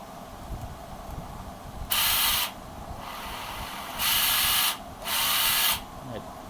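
Used Hitachi cordless drill with a slight internal noise, triggered in three short bursts of high whirring about a second long, close by, with quiet handling sounds between runs.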